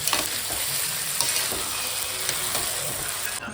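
Duck meat for curry sizzling and being stir-fried in a pan, a continuous loud crackling fry with scraping stirs throughout and no talk.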